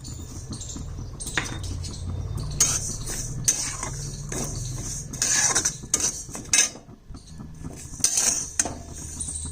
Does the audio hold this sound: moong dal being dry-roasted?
yes